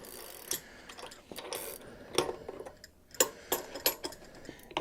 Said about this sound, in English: Now it's time to take off the freewheel. We're going to use this freewheel cassette tool here.